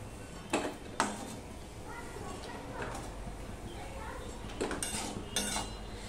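Fried lentil dumplings (bori) are lifted from oil in a pan while a Katla fish and vegetable curry is being made, giving a few sharp metal-on-pan clinks and scrapes over a low frying hiss.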